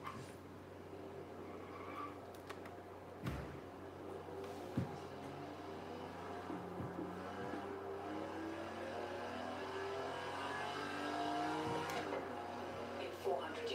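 Car engine in Forza Horizon 3 holds a steady droning note with shifting pitch through downshifts and revs, with background game audio under a navigation voice.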